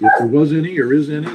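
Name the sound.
dog barking in the background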